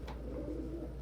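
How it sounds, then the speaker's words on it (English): Pigeons coo in a low, steady murmur that carries through the whole short stretch, close and soft, with no voices over it. "Love seeing happy pigeons."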